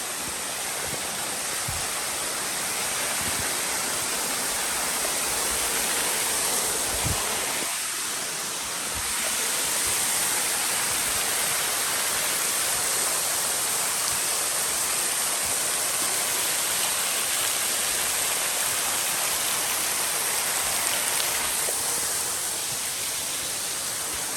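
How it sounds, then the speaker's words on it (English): Loud waterfall on the Copperas Falls Trail in Appalachia, a dense, constant roar of rushing water heard up close, with no talking. "I can't really talk over the waterfall."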